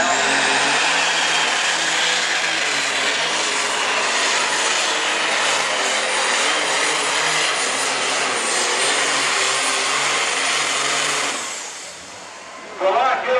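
An alcohol-fueled super stock pulling tractor at an NTPA Grand National open tractor pull roars at full power down the track, a loud, steady, broadband engine howl sustained for about eleven seconds before suddenly dropping off.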